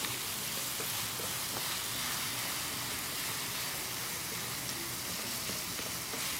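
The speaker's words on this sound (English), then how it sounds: "a wooden spoon to press down and cook the meat out evenly and throughout the entire pan." Ground meat for traditional Neapolitan cannelloni sizzles steadily in a pan as it is pressed down with a wooden spoon, a dense, even crackle running without pause and no voices.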